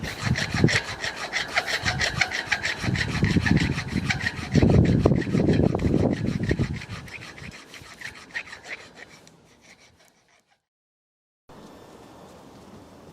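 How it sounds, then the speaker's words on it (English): Hand file rasping back and forth on a metal part of a SwytchBike e-bike conversion kit, close and rhythmic strokes that grow heavier then taper off, followed by a brief pause and faint background noise. "You basically need to file off 2 mil on each side"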